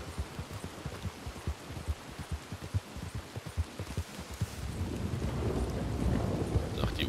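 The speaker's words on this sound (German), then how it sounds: "9 Grad und Regen." Stormy weather in Red Dead Redemption 2 Online: rain pours steadily with a dense patter, under a cold nine-degree sky, while low thunder rumbles roll through in repeated bursts before the downpour swells louder toward the end.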